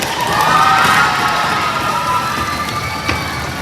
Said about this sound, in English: So give a round of applause for the teachers.